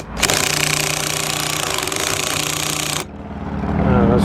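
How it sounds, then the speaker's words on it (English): A power drill with a square drive bit whirs loudly while backing screws out of an RV clearance light, a steady buzzing run that stops abruptly, then the motor spins up again. "start in the middle and back these screws out of here"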